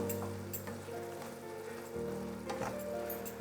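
Butter garlic mushrooms sizzle in a pan while being stirred. A soft, steady frying hiss sits under a low background hum, with occasional light scraping and spatter.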